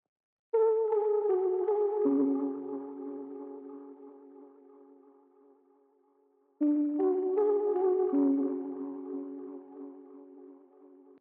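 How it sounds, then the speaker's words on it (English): A soft, tape-like Mellotron melody plays two slow phrases, each note gliding and fading gently, with a brief silence between the phrases. "this sound is actually from the Mellotron in Analog Lab"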